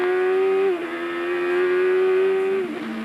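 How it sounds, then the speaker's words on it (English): CART race car engine on the Surfers Paradise street circuit in 1991, a loud sustained high-pitched drone holding steady, briefly dipping as gears change and then climbing again. "You can hear the cars really working well there."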